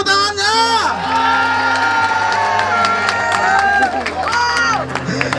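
A crowd at a vape meet cheering and whooping with scattered applause, loud and close, with shouting voices and speech mixed throughout.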